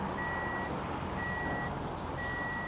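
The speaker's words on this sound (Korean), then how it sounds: "역시 삐삐삐 소리가 3번 나면서 트렁크가 작동하지 않습니다." Three evenly spaced electronic car trunk warning beeps, each about half a second long, ring out over a steady low hum of background noise as the trunk fails to operate.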